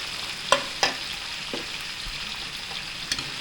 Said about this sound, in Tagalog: Binabili, gigisa na natin. Bawang sibuyas, bosan doon.